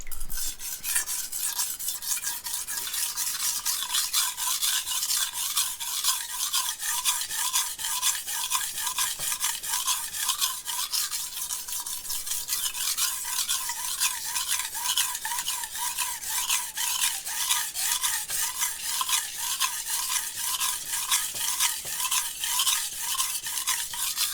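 A knife blade is drawn repeatedly across a 400 grit whetstone during hands-on sharpening with a BBQ pitmaster, giving a continuous close, steady scraping and grinding with rhythmic strokes that run without a break and with no talk.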